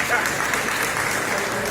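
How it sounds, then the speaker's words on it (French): A crowd applauds at a community meeting in Abidjan about compensation for people affected by the metro project. The clapping is loud, close and continuous from start to end. "Applaudissez."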